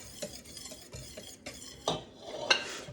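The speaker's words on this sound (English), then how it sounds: "you have to keep stirring because it will stick to the bottom of your pot" A spoon stirs thick banana pudding mixture in a pot, producing soft rhythmic scraping strokes against the bottom with a couple of light metallic clinks, close and quiet with no talking.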